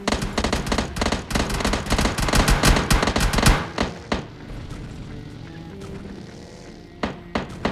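Rapid automatic gunfire from the PUBG Lite battle royale game, a dense stream of sharp shots for several seconds that stops abruptly, followed by a few isolated shots over quieter game ambience.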